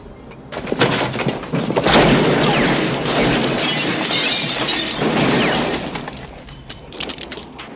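Gunmen shooting up a cafe in a western film scene: dense bursts of crashing and breaking glass, loud and chaotic, then tapering into scattered tinkling debris.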